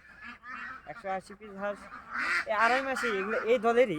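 A flock of about 180 ducks on a farm quacking and honking close by, calls overlapping and growing louder and busier toward the end.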